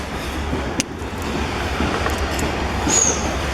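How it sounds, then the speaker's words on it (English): A train passing through Roanoke, Virginia on Norfolk Southern track, a steady rumbling roll with faint clicks and a brief high wheel squeal, moderately close and continuous without talk. "here comes the next train."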